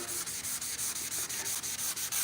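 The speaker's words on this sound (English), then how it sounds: "I'll go ahead and finish water sanding the rest of the hood" Rhythmic back-and-forth wet sanding strokes on a car hood, about a dozen quick rubs in a steady beat, close and loud.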